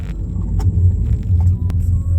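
Car interior while driving, a steady low engine and road rumble with faint clicks and small bumps from the cabin.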